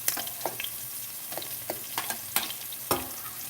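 Ingredients hit coconut oil in a pot on low heat, giving a soft, steady sizzle with scattered crisp pops and stirring clicks throughout, close and fairly quiet.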